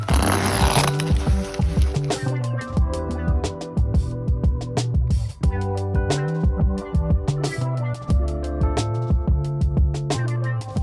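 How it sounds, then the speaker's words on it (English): Loud, rapid mechanical stitching of a sewing machine sewing a large zipper onto slippery fabric for a truck camper, running in bursts with short pauses, its rhythmic whirring and clatter filling the clip. "Sewing the big zipper on the slippery snake."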